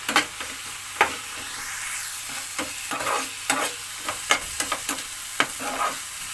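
Spinach and potatoes fry in a pan with a steady sizzle, while a utensil stirs and scrapes against the metal in repeated irregular strokes, close and fairly loud throughout.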